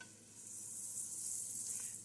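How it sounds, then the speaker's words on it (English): Quiet, steady high sizzling of food frying in a hot pan, a continuous hiss with no voices. "Frying an egg."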